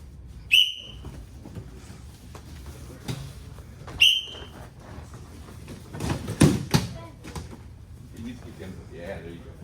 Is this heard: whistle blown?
yes